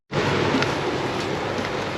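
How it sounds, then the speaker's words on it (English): Steady rain hisses evenly throughout in Zemun, Serbia, a constant wash of falling water with no distinct thunderclap. "It's raining, and it's a little bit of lightning, thunder, and stuff like that."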